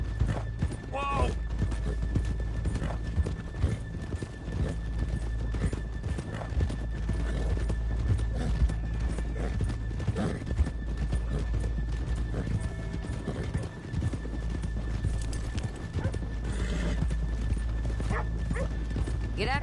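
Steady clip-clop of horse hooves in Red Dead Redemption 2 under background music, with an occasional whinny and voices; continuous, fairly loud and close.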